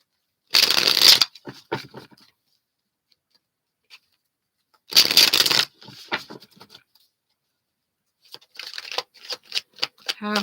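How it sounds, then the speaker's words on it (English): Tarot cards being shuffled by hand, two crisp riffle bursts each about half a second long, separated by silence, followed by a run of lighter flicks and taps as the deck is squared, close and clear. "Just got to give these a better shuffle here."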